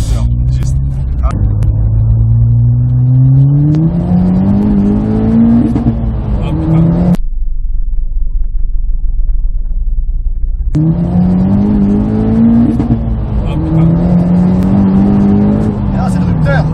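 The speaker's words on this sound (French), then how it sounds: "mais là c'est le rupteur, on était à 7100" A Ford Fiesta ST running on E85 ethanol revs up twice toward the rev limiter, engine pitch climbing with stuttering bounces at the top, a quiet gap between runs, and voices talking over it.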